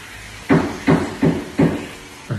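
An inspector knocks under a house in Fullerton, California, with four solid, evenly spaced thumps, each dull and fairly loud against a quiet background.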